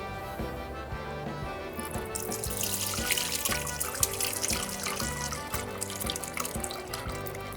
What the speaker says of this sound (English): we're gonna take all this juice and we're gonna pour that into this pan over here.